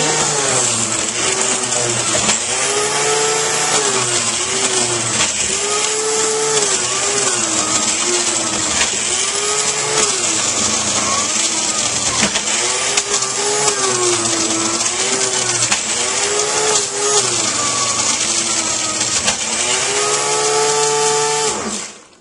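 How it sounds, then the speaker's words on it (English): Carrots being juiced in an electric juicer for a cleansing juice: a loud, steady high-pitched motor whine with wavering grinding tones runs continuously throughout, with no talking. "First, I'm going to start off juicing all of the carrots."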